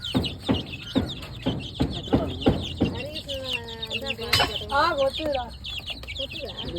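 Chickens and young chicks on a small poultry farm give rhythmic clucks followed by higher chirping peeps nearby, while people talk over them.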